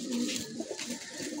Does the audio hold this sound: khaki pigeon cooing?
yes